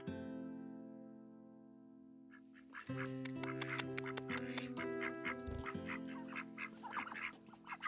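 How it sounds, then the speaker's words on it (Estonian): Runner ducks and Khaki Campbell ducks, two drakes and three hens, quacking close by, with repeated overlapping calls that start faint and grow busier and louder against a low steady hum. "Siin on meil siis pardid, jooksupardid ja kakikampeli pardid, 2 isast ja 3 emast"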